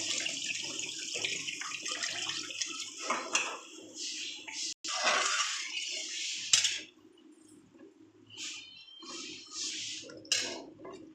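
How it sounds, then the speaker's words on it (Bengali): Water is poured into a pan of mustard spice paste for a hilsa curry, a splashing, running pour in uneven bursts with some clinks of utensils, fairly close and moderately quiet. "এবার আমি জল দিয়ে দিলাম"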